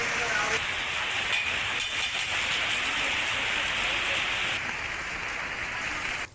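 Heavy monsoon rain pours down steadily in Porbandar as a dense, close hiss that holds for several seconds.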